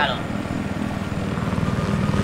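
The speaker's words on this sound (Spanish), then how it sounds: "márcalo, el helicóptero" Helicopter in the video game Battlefield 3, a loud, close rotor thump with a steady pulsing beat that grows slightly stronger toward the end, with people talking over it.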